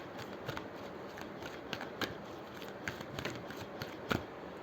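Tarot cards being drawn and shuffled from a deck, giving soft papery flicks and slides in a quiet, close, steady rhythm with no talking.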